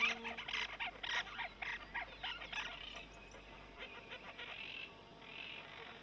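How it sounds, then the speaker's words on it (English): South American parakeets and a pair of flycatchers squabble over a tree hollow, trading harsh, rapid squawks and chattering calls in quick bursts that ease off toward the end. "The parakeets are in bitter dispute with a pair of flycatchers and are willing to defend their hollow at all costs."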